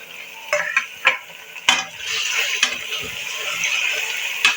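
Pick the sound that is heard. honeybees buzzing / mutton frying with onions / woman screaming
mutton frying with onions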